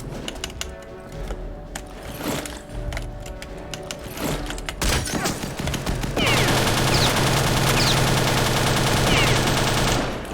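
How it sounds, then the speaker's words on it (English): MG34 machine gun in a WWII video game firing long rattling bursts, building up and becoming a loud, continuous clatter in the second half. "You open fire with the MG34 over there and there's just all of them die at once."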